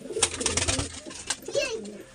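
Laljiriya pigeons, deep-coloured birds for sale, cooing close by in a short rolling burst with a second coo near the end.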